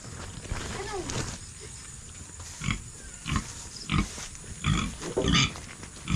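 Repeated loud squeals and grunts from two native piglets in short bursts, close by, with farmyard shuffling and noise in between.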